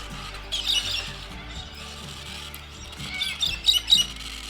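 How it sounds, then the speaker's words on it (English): Galahs squawk in the Australian outback at night in the Flinders Ranges, their faint high chatter rising in two bursts over a steady background hum, with other birds calling around. "And the galahs making a fair bit of noise."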